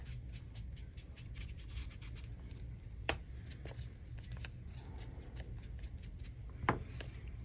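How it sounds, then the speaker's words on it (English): Ink is rubbed onto a sheet of music paper in quick, close, papery strokes that run steadily, broken by a couple of sharper taps, with no talking. "I'm going to rub a little bit on this music paper too"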